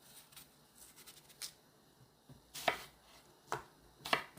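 Knife chopping a seeded half apple on a board, a few sparse sharp cuts that get more distinct near the end, with quiet room background between strokes.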